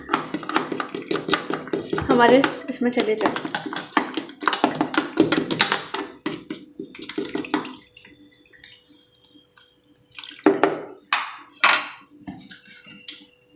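Water is poured into leftover kinnow orange pulp in a kitchen, giving splashing, trickling bursts with clinks of a utensil against a container, while a person talks over it.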